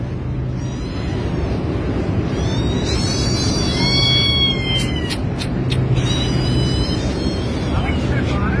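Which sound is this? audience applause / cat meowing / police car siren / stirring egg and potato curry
cat meowing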